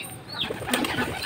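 Domestic pigeons cooing softly at close range, a few low murmuring coos with light rustling, heard alone without talk.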